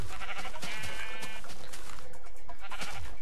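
Bleating sheep in a Minecraft game, several loud, overlapping bleats in quick succession that fill the short stretch, with no talk over them.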